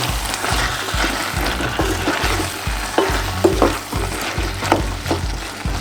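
Chickpeas frying in a pan while being stirred, a loud close sizzle with rhythmic scraping strokes of a utensil repeating roughly every half second, with no voices.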